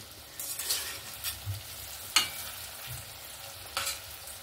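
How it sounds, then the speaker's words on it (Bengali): Chicken pakoras deep frying in oil over a low gas flame, a soft steady sizzle with a few brief scrapes and clinks of stirring scattered through, fairly quiet and close. "এখানে আমার চিকেন পকোড়াগুলো সুন্দরভাবে ভাজা হয়ে গেছে"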